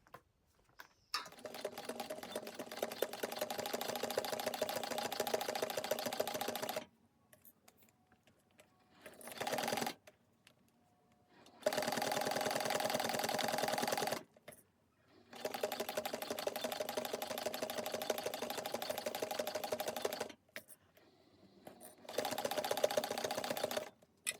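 Sewing machine stitching a fabric strap, running in several bursts of rapid even chattering separated by silent pauses, close and clear with no talking.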